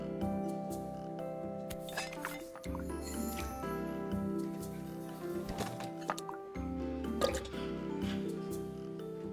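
Liquid pours out with repeated drips and squishy trickles in the cozy puzzle game Assemble with Care, set over a soft looping music bed with light clinks.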